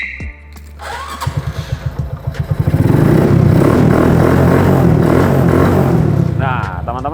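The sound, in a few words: motorcycle engine starting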